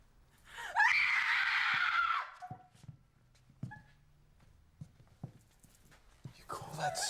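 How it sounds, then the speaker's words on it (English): A person lets out a loud, sustained scream for over a second, followed by quieter scattered knocks and thumps, then a brief burst of voice at the end. "You call that screaming?"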